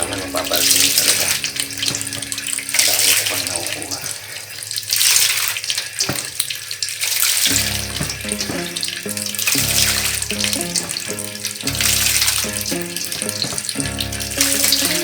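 Grated coconut mixed with water is squeezed by hand to extract coconut milk, giving continuous wet splashing and trickling into a container, with squelchy bursts as the pulp is wrung out.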